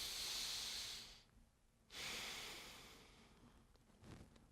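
Two slow, deep breaths, each a soft airy hiss drawn close to the microphone with a quiet pause between them, taken during a shoulder stretch.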